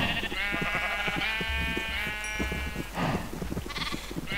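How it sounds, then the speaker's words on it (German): Sheep in the Minecraft video game bleat in a quick series of short, wavering calls, fairly close and with no talking. "Da ist das kleine rote Schaf."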